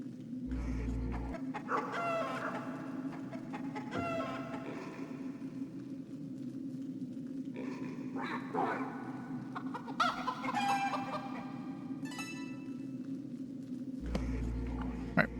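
Chickens cluck and a rooster crows in the Xbox video game Arx Fatalis, scattered calls over a steady low ambient drone, moderately near with no talking.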